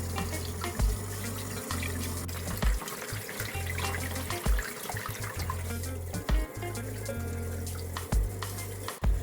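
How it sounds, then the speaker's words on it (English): Cool tap water runs steadily into a sink while raw chicken is washed, the stream broken by splashes and pauses as the meat is handled under the faucet, close and clear with no talking. "Now running some cool water, I'm going to"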